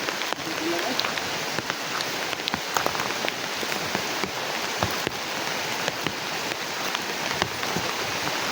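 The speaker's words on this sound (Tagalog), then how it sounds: "Grabe yung ulan tol." Heavy rain pours steadily, a dense hiss of drops drumming on surfaces with occasional sharper splatters, loud and continuous.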